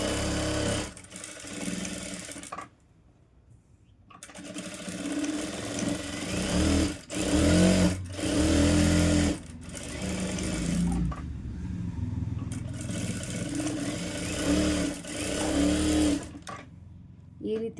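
A sewing machine stitches a blouse side seam in repeated runs of steady whirring rattle, separated by short pauses, while someone talks intermittently over and between the runs.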